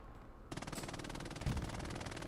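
Rapid, sustained machine-gun fire from the WWII shooter game Hell Let Loose on the Carentan map begins abruptly after a brief lull, a fast, unbroken rattle of close, loud shots.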